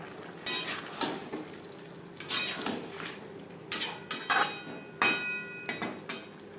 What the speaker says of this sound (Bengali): তিন চার মিনিট নাড়াচাড়া করে নেব যাতে পেঁপের মধ্যে মশলার একটা ফ্লেভার আসে